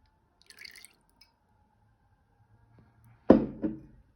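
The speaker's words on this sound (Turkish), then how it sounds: "Bir de zeytinyağından biraz dökelim." Olive oil poured into a container of water during a school sinking-and-floating experiment, a short faint trickle, a long quiet pause, then a sudden splashy plop with a second smaller drip close by.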